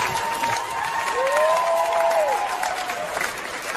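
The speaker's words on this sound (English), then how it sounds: "Every time people applaud" Brief audience applause at a stand-up comedy show, a crowd clapping with light cheering, moderately loud and continuous for a few seconds.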